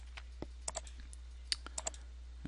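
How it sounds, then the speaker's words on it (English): Mouse clicks at a computer while windows are placed along a building's south face in Revit, a scattered series of quiet, sharp clicks at uneven intervals over a low steady hum. "And just kind of keep clicking at random"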